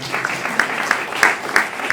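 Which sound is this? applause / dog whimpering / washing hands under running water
applause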